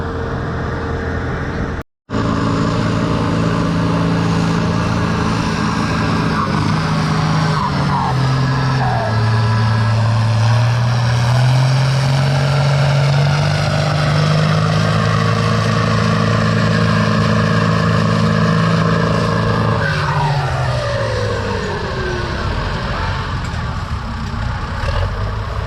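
Pulling tractor 1256 runs alone in the 10,000 pound, 6 mph class at a fall tractor pull in Lynden, WA, its heavy engine roaring loud and steady, pitch climbing and wavering over about twenty seconds before easing off.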